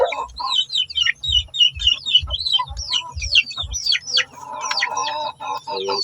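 A mix of native and Brahma chickens cluck and chirp up close, a busy run of short calls over soft rhythmic thumps, with no talk.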